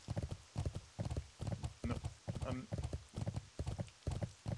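A horse's hooves clip-clop in the video game World of Warcraft, a steady, even trotting rhythm of paired hoof strikes, close and fairly loud, with brief voice fragments in the middle.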